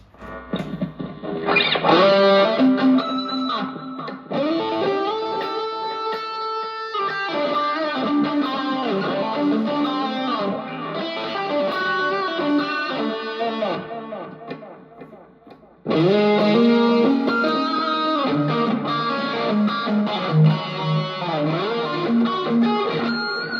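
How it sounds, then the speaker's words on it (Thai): A distorted electric guitar through a Boss effects unit plays a sustained, bending lead line, loud and continuous with a brief pause partway through. "แบ่งที่หนึ่งที่เป็นเสียงโซโล่นะครับผม เสียงแตกโซโล่นะครับ"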